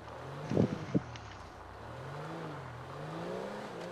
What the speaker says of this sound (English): I love the sound of the muscle car engines in this game.